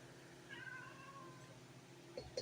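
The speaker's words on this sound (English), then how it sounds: "Talking to the kitty cat, y'all." A domestic cat meows a couple of times in a home kitchen where muffins are being made, the calls fairly faint and short against a steady low room hum, with a brief louder mew near the end.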